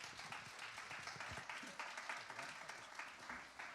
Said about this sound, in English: Let's give a round of applause to Carter.